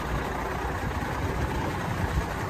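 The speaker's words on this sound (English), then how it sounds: "Cummins ISM engine." A 2008 International Transtar 8600 truck with a Cummins ISM diesel engine idles steadily, a continuous low rumble with even, unbroken loudness and no talking.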